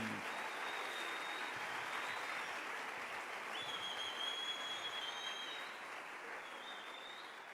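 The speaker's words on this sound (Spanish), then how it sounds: "Dale un aplauso bien fuerte al Rey." Sustained, even applause fills a church worship service as the congregation claps loudly for the King, a dense steady patter that barely thins toward the end.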